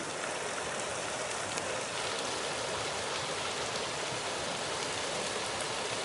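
A tiny stream flows steadily at a concrete dam, a constant broadband water rush with no breaks, close and fairly loud, with no voices present.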